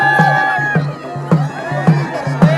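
A large crowd cheers and shouts at a bullock cart race, loud and close, with rhythmic beats pulsing beneath the noisy babble of voices.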